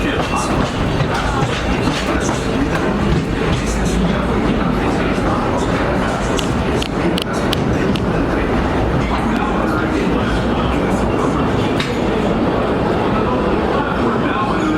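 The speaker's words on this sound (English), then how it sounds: "welcome aboard the Disneyland Railroad." The Disneyland Railroad's Ernest S. Marsh steam train rolls along its tracks with a steady, loud rumble and clattering wheels throughout, and an onboard announcer's voice talks over the ride noise.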